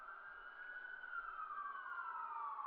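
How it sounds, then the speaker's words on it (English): Wailing ambulance siren layered into a hip-hop style music track, its pitch sweeping slowly up and down in a steady tone that swells slightly louder partway through, with no voices. "I also have these ambulance sirens that come up to it"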